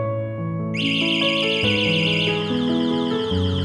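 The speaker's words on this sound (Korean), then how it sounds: "스마트키 경보기를 작동하시려면 하부에 자물쇠 잠긴 버튼 이 버튼 한 번만 눌러주시면" An electric scooter's smart key alarm plays loudly, a continuous stepping melody of sharp synthetic tones, repeating without pause.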